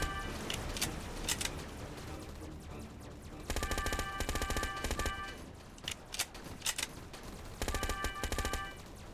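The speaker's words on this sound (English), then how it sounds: "Shoot the shark!" Rapid automatic gunfire shooting at the shark in the SharkBite 2 video game, heard as several bursts of fast, evenly spaced shots with brief gaps between them, moderately loud game audio.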